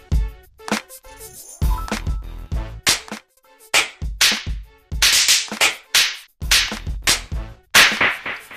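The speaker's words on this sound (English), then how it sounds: "The second sound is a slap." A sharp slap sound effect from the iWhack iPhone app, fired repeatedly in quick bursts and combos, loud, crisp and close with brief gaps between hits.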